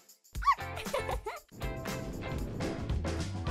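A dog barks in short yips and then whimpers, close and fairly loud at the start, before a busier mix of sounds fills the rest.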